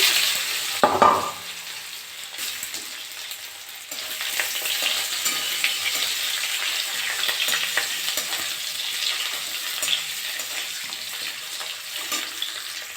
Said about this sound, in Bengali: তেলটা আমার গরম হয়ে গেছে এই আলুগুলো দিয়ে দিচ্ছি